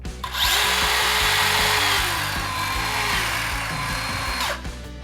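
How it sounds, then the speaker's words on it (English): A Hitachi C18DBL compact cordless circular saw cuts in its quieter silent mode, a steady loud whirring drone for nearly the whole clip, with a brief spin-up at the start and wind-down at the end. "As you can hear, mate, it's noticeably quieter."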